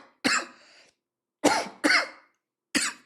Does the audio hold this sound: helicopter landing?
no